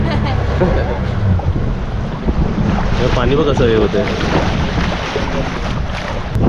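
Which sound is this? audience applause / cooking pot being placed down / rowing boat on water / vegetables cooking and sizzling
rowing boat on water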